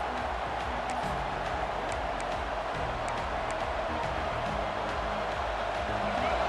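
A large football stadium crowd roars steadily at a college game between Georgia and LSU, a dense, continuous wash of cheering and noise with no clear breaks, held at a constant loud level throughout.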